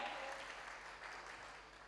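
A church congregation claps and cheers for Jesus, faint, steady applause heard from a distance over about two seconds.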